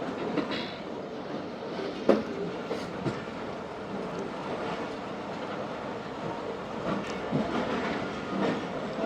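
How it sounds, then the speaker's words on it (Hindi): The 47Up Rehman Baba passenger train pulls out of Khanpur station at night, wheels clattering over rail joints with a steady rolling rumble and occasional sharp knocks. "2 घंटा 10 मिनट लेट खानपुर से ट्रेन रवाना हो गई"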